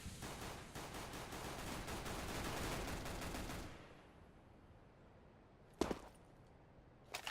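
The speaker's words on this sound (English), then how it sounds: "you heard him shooting your teammate" Rapid video-game gunfire from one player shooting a teammate: a dense, sustained burst for about four seconds, followed by quieter background and a couple of short, sharp shots near the end.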